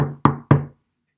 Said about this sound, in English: the big bad wrecking ball knocked on the door